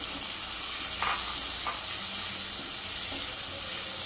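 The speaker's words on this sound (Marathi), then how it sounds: "लसूण परतून झाले, आता ह्यामध्ये मी प्रॉन्स घालते" Prawns hit a pan of fried garlic and sauté for butter garlic prawns, a loud continuous sizzle close up with a few brief stirring scrapes rising above it, no talking.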